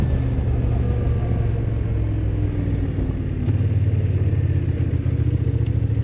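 A 2024 Kymco AK Premium scooter accelerating hard at full throttle, a steady loud engine drone with rising pitch and a slight shift in tone midway, heard close with road rumble.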